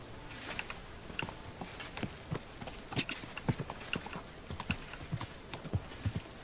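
A horse's hooves clip-clop in steady rhythm in the video game Kingdom Come: Deliverance 2, moderately close and continuous over faint background ambience.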